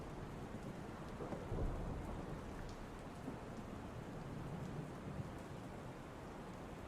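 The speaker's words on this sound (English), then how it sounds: "Can you guys hear the rain good?" Steady rain falls outside a window with low rumbling thunder rolling through, a continuous soft wash of sound with no talking.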